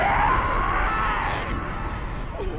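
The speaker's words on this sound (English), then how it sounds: "Oh, that scream, man." A primal, drawn-out scream voiced for Darth Maul in the Star Wars Rebels episode "Twin Suns," loud and sustained for over two seconds, wavering and tailing off in pitch against a dense dramatic score.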